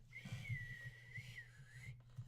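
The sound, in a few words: person whistling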